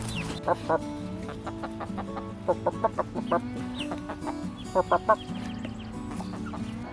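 A baby bird calls on a farm with short clucking bursts that come in quick clusters, near and fairly clear over a quiet outdoor background.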